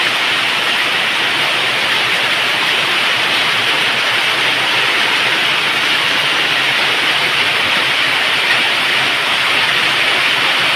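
Heavy wind and rain pour down outside in a dense, unbroken rushing hiss that stays loud and steady throughout, with no voices.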